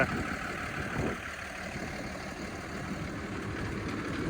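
A Lovol 1304 tractor engine drones steadily at moderate volume while spraying fertilizer on wheat, a low, continuous rumble with a brief bump in loudness near the start.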